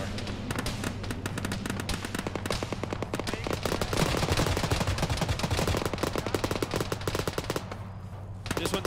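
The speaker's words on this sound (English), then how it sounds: "There's a 50 cal somewhere." Heavy .50 caliber machine gun firing in a military shooter game, dense rapid bursts running almost continuously at steady loudness, with other battlefield gunfire mixed in and a brief lull near the end.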